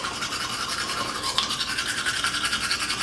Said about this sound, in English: like somebody brushing their teeth.